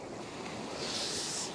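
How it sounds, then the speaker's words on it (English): Waves wash in steadily on a sandy beach at dawn, a continuous hissing surge mixed with wind rumble that swells slightly toward the end. "now the water's coming in"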